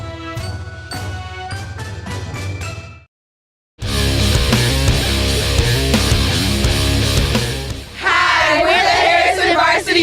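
A cheer team at a high school football game cheers amid loud band music, crowd voices and yells blending with brassy, drum-backed playing, broken by a brief silent gap.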